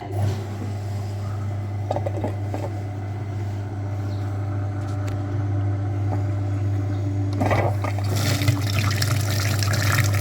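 A flushing machine pumps cleaning liquid through the heater core of a Skoda Fabia's cooling system. It gives a steady, close mechanical hum with liquid rushing and trickling, and the flow grows louder and splashier near the end, with no talk.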